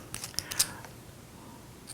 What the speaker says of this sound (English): You unscrew one side, place it in, screw it back